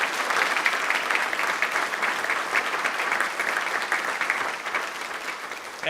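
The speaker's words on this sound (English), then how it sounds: "let's all give them a big round of applause" An audience at a State of the City address applauds in a big round of clapping, a dense, steady, even wash of many hands lasting throughout, fairly loud and close, with no talking over it.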